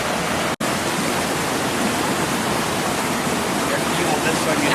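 Steady, full-bodied roar of a mountain waterfall in the Smoky Mountains, heard up close as continuous broadband rushing water with no let-up apart from one brief dropout near the start.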